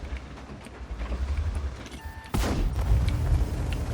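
A tank cannon fires in World of Tanks, a sudden heavy boom midway that rolls into a loud rumbling tail, preceded by quieter engine noise and a brief mechanical tone.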